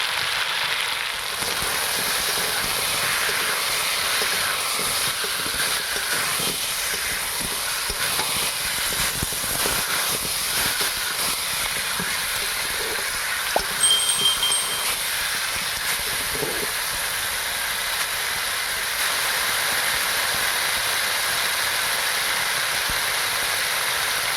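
Vegetables with taro sauté in a hot pan for a tilapia fish curry, giving a steady, close sizzling hiss that continues unbroken with no talking.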